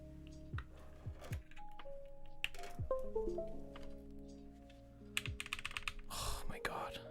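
Someone types on a custom mechanical computer keyboard to test it, giving scattered clacky keystrokes and short bursts of rapid typing, close and crisp, with brief electronic tones mixed in.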